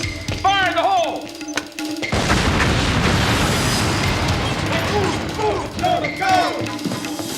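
An explosion in an action scene: a deep boom breaks out and becomes a loud, sustained roaring blast. Shouting voices come before it and again as it fades.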